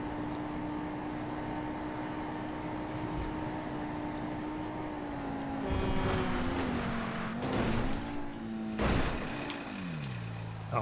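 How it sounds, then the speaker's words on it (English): A car engine in a GTA multi-class video game race drones at a steady pitch, then shifts gears and revs with rising and falling tones, broken by a few loud bursts of roaring noise in the second half. "Oh, I didn't like the sound of that engine."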